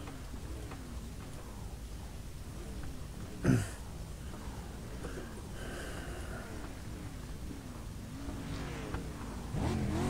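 Street stock car engine droning on a dirt track in the iRacing sim at Langer National Speedway, a steady low rumble with harmonic sweeps as the revs rise and fall, one sharp bump midway and a louder surge near the end.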